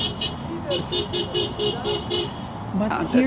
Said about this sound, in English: all these cars were honking once they see this